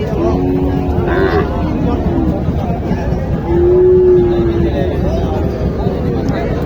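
Bull cattle low at a crowded livestock market in Joypurhat, with two long moos rising over a steady hubbub of voices and market noise while people talk nearby.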